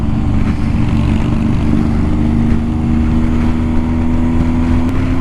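A motorcycle passes close by at a morning bike gathering, its engine a steady, loud rumble that holds throughout with a slight swell near the middle.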